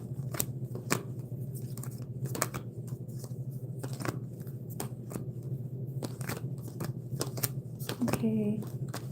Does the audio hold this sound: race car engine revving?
no